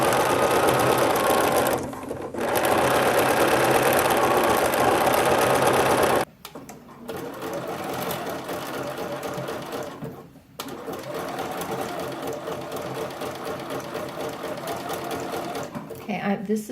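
A sewing machine runs in sustained stitching bursts across lingerie lace, pausing briefly around two seconds and again near six and ten seconds, with a voice talking over the steady whir.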